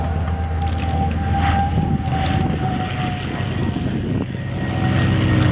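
A Lockheed Super Constellation propeller airliner passes at an air show in Shoreham, a droning piston-engine hum with a steady tone under gusting wind noise, staying loud the whole time.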